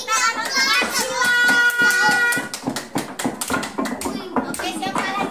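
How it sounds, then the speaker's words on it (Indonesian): A kindergarten class of children at TK Assalam Tanggamus bursts into scattered, fast hand clapping that follows an adult voice speaking, with the claps continuing loudly for a few seconds. "Oke, beri tepuk tangan untuk Arsila."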